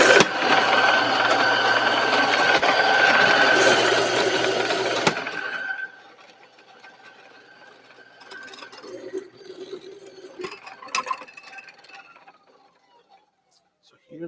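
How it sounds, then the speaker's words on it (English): A coffee grinder grinds Kona SL34 champagne natural beans at a medium-fine setting, a loud harsh whirring for about five seconds that stops abruptly, followed by quieter handling clatter and a voice talking. "We're going to grind directly into our vessel."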